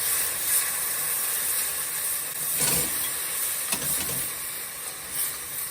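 Wine poured into hot risotto rice in a pan hisses and sizzles steadily, with a few louder bursts of steam and stirring scrapes across the span.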